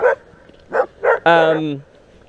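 Watchdogs at a Japanese elementary school bark in three short yaps followed by a longer, drawn-out bark, close and loud.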